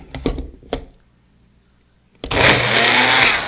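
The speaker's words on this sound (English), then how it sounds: "I think we might need a bigger blender next time." A small bullet-style blender roars to life and grinds a whole meal, loud and continuous close up, after a few knocks and clatters and a brief near-silent pause.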